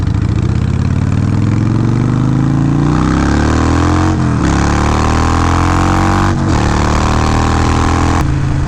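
A Harley Softail motorcycle engine runs loud and close, rumbling as it accelerates with rising pitch, dropping briefly between gear shifts, then pulling again.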